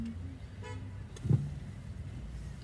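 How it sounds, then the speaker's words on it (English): A car horn gives a single short toot, fairly close, from traffic while waiting in a line of cars, over a low idling rumble. "Don't be honking."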